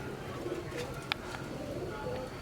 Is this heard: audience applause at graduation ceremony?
no